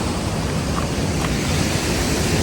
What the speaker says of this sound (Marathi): तर समोर धबधबा आहे